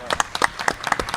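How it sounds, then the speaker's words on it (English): An audience at a community chamber event claps, a sparse run of individual hand claps in uneven rhythm, fairly close and moderately loud with no voices over it. "Nice round of applause for everyone in the audience and our guests."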